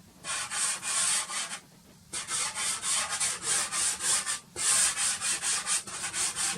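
Soft pastel rubs across paper in repeated short, scratchy strokes with brief pauses, a close, dry rasping rhythm heard alone.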